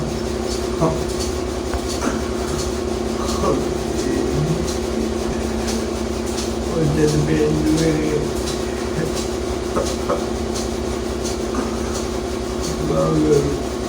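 An engine runs steadily in the background through a hot room, a continuous low mechanical drone with a rhythmic, train-like clatter, moderately loud, with faint voices and scattered noises over it.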